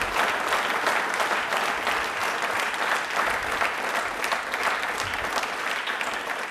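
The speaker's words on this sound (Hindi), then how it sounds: "तालियां एक बार जोरदार" At a studio quiz event marking Ambedkar's birth anniversary, an audience gives a sustained, loud burst of applause, with even, continuous clapping from start to finish and no talking heard.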